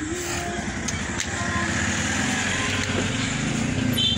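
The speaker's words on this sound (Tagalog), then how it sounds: "Yung compressor matakbo na." An air conditioner compressor hums steadily at close range, a low droning motor tone with faint higher whines above it, running without pause.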